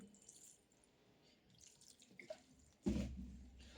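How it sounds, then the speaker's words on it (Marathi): After faint, quiet kitchen sounds, water is poured over cooked noodles for Chinese bhel, landing as a sudden splash and a short gush near the end. "आपण नूडल्स थंड व्हायला ठेवल्यानंतर आपण त्याच्यावर थोडंसं पाणी टाकणार आहे"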